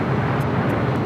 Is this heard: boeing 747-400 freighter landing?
yes